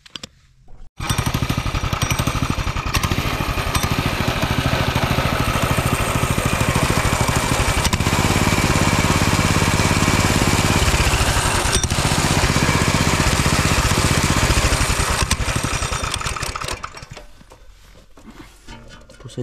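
Small Coleman motorcycle engine running loud and close for most of the stretch, a steady buzzing rumble with rough, uneven firing that starts abruptly and fades toward idle near the end.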